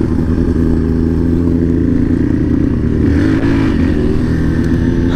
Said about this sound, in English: I just started to do a burnout.